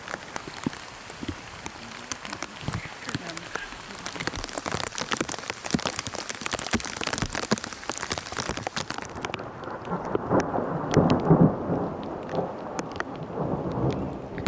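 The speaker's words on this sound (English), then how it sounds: "We had 3 hailstorms before 3 o'clock." Heavy hail and rain pound down during a thunderstorm, with low rumbles of thunder, a dense, loud continuous clatter that thickens into a stronger burst of pelting near the end.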